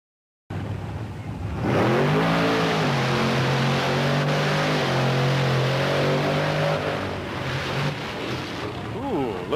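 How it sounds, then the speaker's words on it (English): A monster truck engine roars and revs hard during a long-distance jump contest, a loud sustained drone that climbs in pitch and holds, with crowd noise and commentary underneath. "Interesting, Kyle, you don't see a lot of wheel spin as these trucks come off the line."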